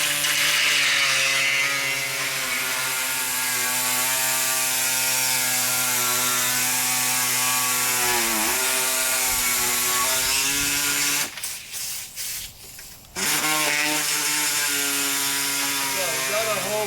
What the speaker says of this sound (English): I've got an air saw here. This is what I use.